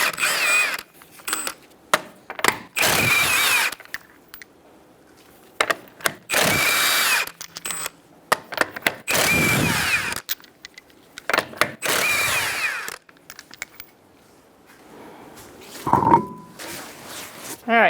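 An impact or power tool with a 21mm socket spins off the lug nuts on the rear wheel of a 2010-2013 Kia Soul, loud whirring bursts repeating in short runs with pauses between them, close to the microphone.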